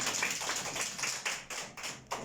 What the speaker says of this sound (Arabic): تصفيق صف الأول